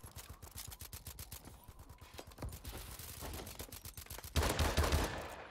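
Rapid bursts of M1 Irons gunfire in a video game, a fast steady rattle of shots running throughout and swelling louder and heavier near the end, with no talk over it.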